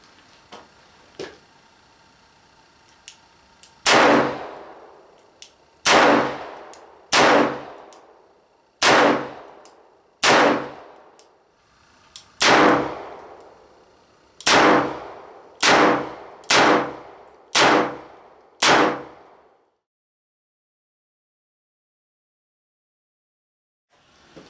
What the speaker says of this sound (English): we're going to basically shoot 5 rounds of 357